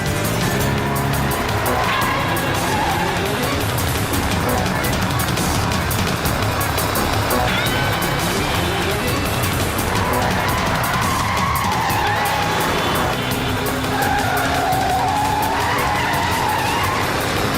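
A car with no brakes skids and squeals continuously, loud and close, the tire screech wavering and sliding in pitch over a steady roar of engine and road noise.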